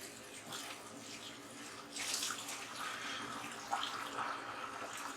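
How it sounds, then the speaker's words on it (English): Hot water and cooked lasagna noodles poured slowly from a pot into a strainer, a steady rushing splash of moderate loudness that swells partway through, with no talking. "we're going to take our lasagna noodles out the pot, and we're going to strain them in this strainer"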